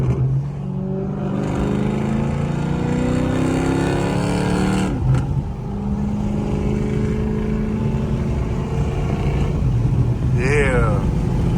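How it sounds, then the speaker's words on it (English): An SRT car accelerates hard from 40 to 60 on a highway, its engine note climbing in steady rising sweeps, close and loud, with a shift partway through and a voice heard over the roar. "I'm gonna do 40 to 60."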